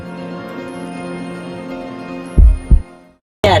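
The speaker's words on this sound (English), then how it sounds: "Listen to my heartbeat." A heartbeat, two strong low thumps close together around the middle, then a brief silence, heard alone without talk over a faint hum.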